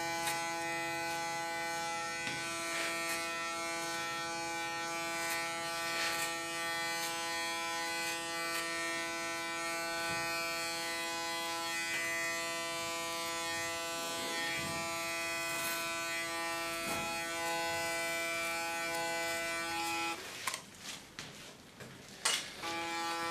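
A hair clipper buzzes steadily and close while cutting hair ultra short, a continuous tonal drone with faint clicks, ending in a few seconds of brief handling noise.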